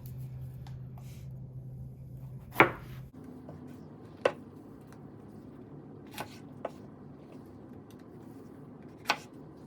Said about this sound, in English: So first, all we're going to do is just cut just take the stems off and just cut them in half.